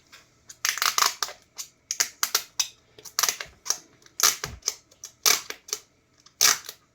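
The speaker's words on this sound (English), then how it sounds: "I think we're ready for the peeling of the pickguard." Protective plastic film being peeled off a guitar pickguard on an LJ Popcaster, a series of close, crackly ripping bursts in irregular short pulls with brief pauses between, no talking.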